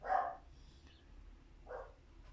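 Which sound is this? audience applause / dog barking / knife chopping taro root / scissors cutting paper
dog barking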